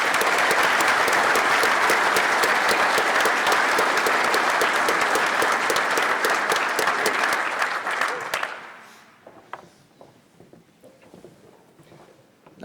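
Sustained applause from a large gala audience fills the room at full volume for about eight seconds, then thins out into a few scattered claps and soft murmuring.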